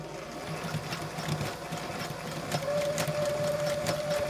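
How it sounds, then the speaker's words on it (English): A sewing machine zigzag stitches across joined elastic for a double-layer ribbon tutu, its needle chattering in a rapid, even mechanical rhythm with a motor hum, close and steady, growing a little louder toward the end. "On that edge, I'm going to zigzag stitch across there."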